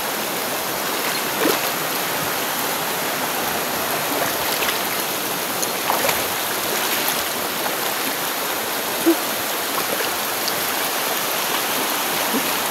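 Steady rushing water pours continuously, a broad hiss-like flow with no pauses, close and fairly loud.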